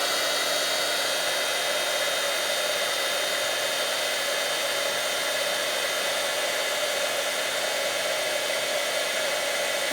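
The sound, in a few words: heat tool melting embossing powder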